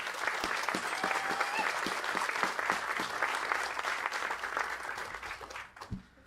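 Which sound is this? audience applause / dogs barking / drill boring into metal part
audience applause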